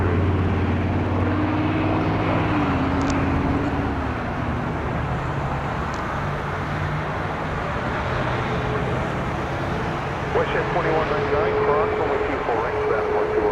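A Boeing 737 MAX 8 at Toronto Pearson airport roars steadily in a broad, loud, continuous wash of jet engine noise with a low rumble throughout, and a voice is heard over it.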